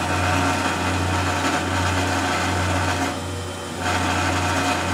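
A pole engine turning at 100 RPM while driving a heating-element load gives a steady, loud mechanical hum with a constant low drone and busy high whirring, dipping briefly in level before resuming.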